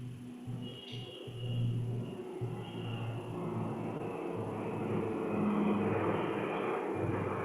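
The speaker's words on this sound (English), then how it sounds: "That was a helicopter passing in my area." A helicopter passes overhead, heard as a steady low rumble that swells slightly and stays fairly faint and distant throughout, with no talking.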